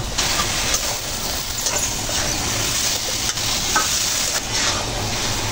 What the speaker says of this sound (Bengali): মিক্স করে নিতে হবে যেন মশলাগুলো ভেন্ডির সাথে ভালো করে লেগে থাকে